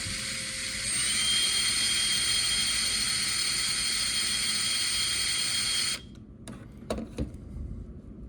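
A rotary tool spins slowly while gently removing a crimp from a shaft, giving a steady high-pitched whine that holds for several seconds and then cuts off, followed by a few short grinding touches and clicks.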